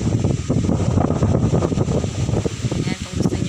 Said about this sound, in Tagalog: super lakas ang hangin dito